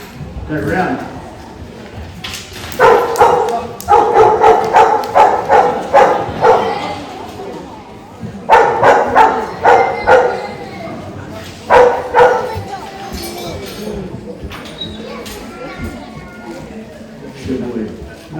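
A herding dog barks while working sheep at a wildlife park in Perth. Loud, close barks come in quick clusters separated by short pauses, with a few yips and a brief voice between them.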